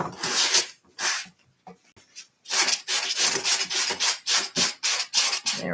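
Sandpaper scraping over a papier-mâché lamp in bursts of brisk rasping strokes, a few slow and separate at first, then a quicker steady run of close, fairly loud rubs with no talking.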